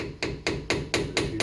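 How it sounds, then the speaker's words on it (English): A small hammer taps a screwdriver to pry off the front hub dust cap on a Ford F150 pickup, giving six evenly spaced metallic strikes in a steady rhythm, close and clear with nothing else over them. "Just going to take a screwdriver and a little hammer."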